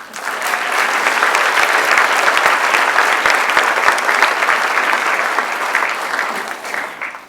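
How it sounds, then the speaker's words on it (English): A warm, sustained round of applause from a lecture audience welcoming a speaker, building quickly to a full, dense roar of many hands, holding steady, then tapering off near the end. "please join me in giving a warm, rousing round of applause to Andrew"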